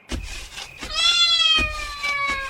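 A cat gives a couple of clear, close meows, one long drawn-out call in the middle, amid background thumps and room noise in a comedy drama scene.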